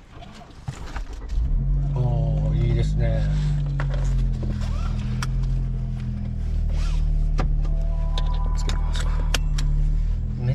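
Toyota Corolla Sport 6-speed manual with a 1.2-litre turbocharged inline-four and an HKS exhaust, a steady close engine drone inside the cabin with a rev rise early on, under people talking.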